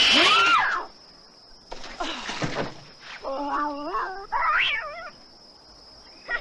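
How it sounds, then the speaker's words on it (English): A cat yowls several times in a 1982 island horror film's cat scare, rising wavering cries that are loud and near, with a brief sharp shriek first and a faint steady high tone running beneath. "that's a weird cat scare"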